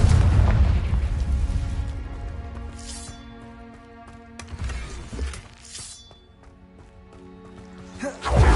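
Confringo blasting spell in Hogwarts Legacy bursting with loud booming, shattering impacts at the start and again near the end, with lighter crackling effects and game music in between.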